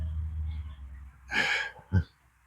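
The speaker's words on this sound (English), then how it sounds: "I just wind up sniffling all the time." A person sniffles through the nose outdoors, one longer hissing intake followed by a short sharp sniff, close and fairly quiet over a low background rumble.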